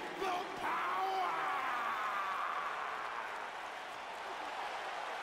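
Wrestling arena crowd at a WWE SmackDown event, a dense roar of cheering and applause that stays loud and steady throughout, with shouts rising above the wash of noise.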